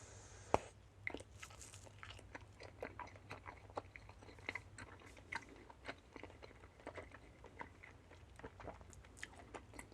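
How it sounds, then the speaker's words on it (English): Firm bubblegum-style candy being chewed up close, with soft wet chomps and small crunchy bites repeating steadily and quietly over a faint background hum. "The gum is quite firm at the beginning. It gives the jaws a good workout."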